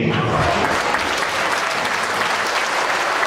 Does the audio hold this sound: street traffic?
no